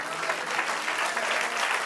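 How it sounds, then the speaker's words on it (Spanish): A church congregation claps for the Lord during a service, a steady, moderately distant wash of applause filling the whole short stretch without a break. "Denle un aplauso al Señor."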